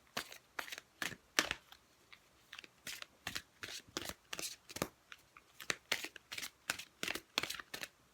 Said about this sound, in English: Let's pull you an oracle card.